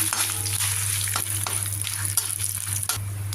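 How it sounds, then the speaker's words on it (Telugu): Dried red chillies, cumin, mustard seeds, urad dal and asafoetida fry in hot oil in a kadai for a Telugu chutney tempering: a steady, close crackling sizzle with a few spoon scrapes over a low hum. "ఒక స్పూన్ ఇంగువ పోపు వేగింది"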